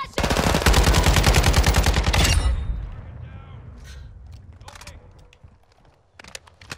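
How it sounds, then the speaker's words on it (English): Rapid automatic battle rifle fire in Call of Duty rattles loud and continuous for about two seconds, then fades into echoing tails, scattered clatter and a few distant shots. "I think this is a battle rifle."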